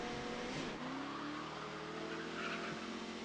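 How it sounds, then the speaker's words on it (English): A car engine revs in the Choices: Stories You Play game Distant Shores, its rising tone sweeping up over a steady rumble for a few seconds, loud and close, with no one speaking. "Just then you hear a rev of a car engine."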